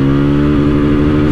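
A TVS Apache RTR 160 4V motorcycle engine held at high revs against its 9,000 RPM rev limiter, a loud, close, steady buzzing drone.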